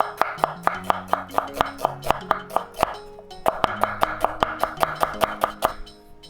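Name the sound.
knife cutting an onion along the grain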